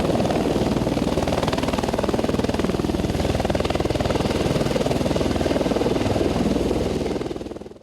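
A helicopter's steady, heavy rotor thrum and engine roar continue throughout, loud and close, fading slightly at the very end, in Lunana, Bhutan.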